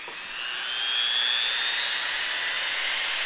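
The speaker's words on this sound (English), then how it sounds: "The motor runs, but the shaft doesn't turn." A Dremel 395 rotary tool with a broken coupler spins up, its high whining motor pitch rising steadily over the first second and a half and then holding a loud, thin whine.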